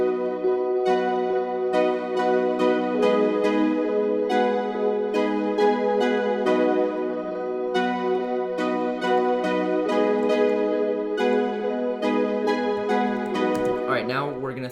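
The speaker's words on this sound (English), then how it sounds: "So the guitar with these chords sounds like this" Upbeat, poppy guitar chords strummed steadily in a repeating pattern, loud and continuous, with a short sweeping electronic sound near the end.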